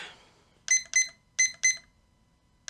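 A timer goes off during a morning sketching session with four sharp electronic beeps in two quick pairs, close and clear, followed by near silence with no voices.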